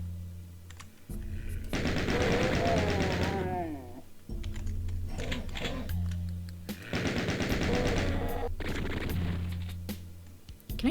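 Rapid gunfire from the DOOM II video game: two long bursts of dense automatic shots mixed with in-game effects, loud and close, separated by shorter clattering bursts.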